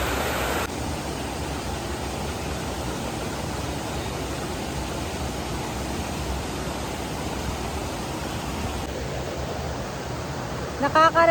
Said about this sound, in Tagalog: tunog, sounds ng tubig. Ang sarap sa tenga.